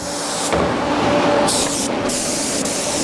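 A spray gun hisses steadily while laying a tack coat of paint on a 1992 GMC 3500 dually truck, with a continuous loud airy rush broken by brief pauses and restarts.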